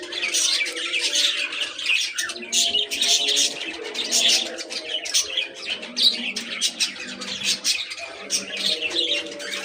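Pet birds kept in a cage squawk, chirp and coo in a steady, busy chorus close by, with overlapping calls filling the whole stretch and no talking.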